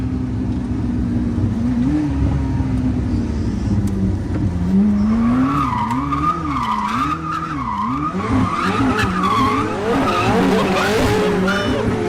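A Koenigsegg Jesko hypercar accelerates hard with traction control off, its engine note climbing and wavering through gear changes as tires squeal and skid, loud and close, with occasional excited voices underneath.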